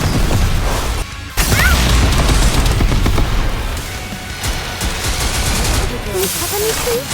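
A full missile barrage in the game Goddess of Victory: Nikke, a loud sustained volley of launches and explosions with crashing impacts, briefly dropping out then continuing under faint voice chatter.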